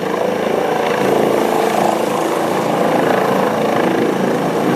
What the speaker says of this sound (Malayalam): ഹൃദയവുമായി ഹെലികോപ്റ്റർ ഇപ്പോൾ കൊച്ചി ഗ്രാൻഡ് ഹയാത്ത് ഹോട്ടലിന്റെ ഹെലിപാഡിലേക്ക് എത്തിയിരിക്കുകയാണ്